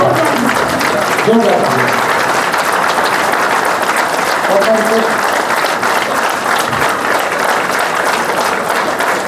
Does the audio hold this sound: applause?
yes